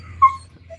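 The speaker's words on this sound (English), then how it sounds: "You're used to barking dogs, Abby?" A single short dog whimper or yip, moderately close, rises once over a low steady background hum and fades, with a faint second whine near the end; the dog is reacting to neighbors out in their yard.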